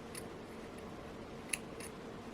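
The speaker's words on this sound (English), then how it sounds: "I will cut with the scissors" Scissors snip the end of a jewelry thread after crimping, giving a few faint, brief metallic clicks, with one sharper snip standing out in a quiet room.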